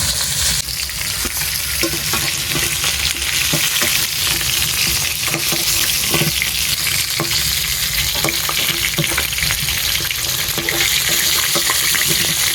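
Katla fish heads frying in hot oil with a steady, dense sizzle throughout, broken by occasional clinks and stirs of a utensil, close and fairly loud with no talking.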